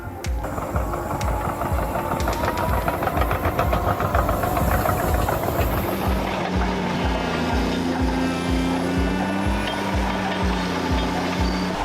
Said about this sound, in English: the Cat D7 and D8 bulldozers with powerful anchor chains slowly advanced